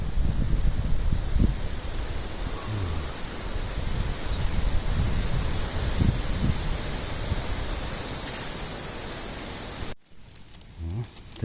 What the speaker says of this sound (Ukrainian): вітер так посилився, прям такий штормовий